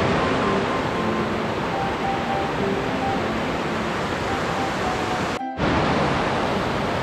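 Hantan River water rushes steadily along a riverside trekking trail in Cheorwon, South Korea. The broad, even wash stays close and constant throughout, with a brief dip near the end.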